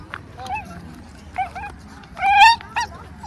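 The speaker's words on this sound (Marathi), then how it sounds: "काय झालंय कुत्र्याला" A dog whimpers and yips in short, high-pitched whines, a few separate cries close by over a low background rumble.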